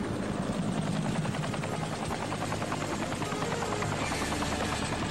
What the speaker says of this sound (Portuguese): Nossa, um helicóptero!